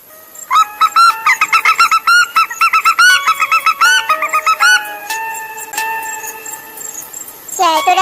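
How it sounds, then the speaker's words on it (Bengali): Cartoon chickens squawk at night in a burst of rapid, loud, repeated shrill calls, then a few longer drawn-out cries, close and mostly alone. "এত রাতে মুরগি চিৎকার করছে"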